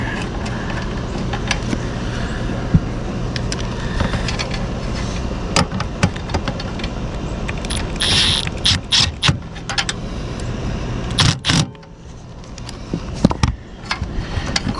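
A screw is driven into the frame of an RV rooftop AC fan motor, producing close, clicking ratchet-like mechanical rattles and scrapes in irregular bursts.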